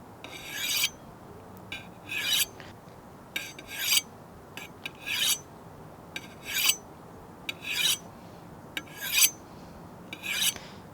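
Rhythmic rasping strokes of a Japanese knife drawn across a sharpener from the heel at a shallow angle, about a dozen gritty passes in steady succession, close and moderately quiet over a low background hiss.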